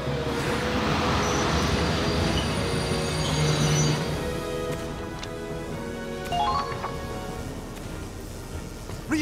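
Game train pulling into a wartime station in Valkyria Chronicles, a long rumbling roll with metallic wheel squeals rising near the end, fairly loud and steady with no talk over it.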